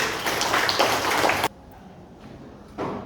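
A classroom audience claps together in a loud, dense burst of applause for about a second and a half, which stops abruptly, leaving a quiet room before another short swell of clapping.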